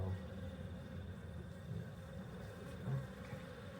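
Honey bees crowd a hive frame during a beehive inspection, giving a low, steady, close buzzing hum that fills the whole stretch without a break.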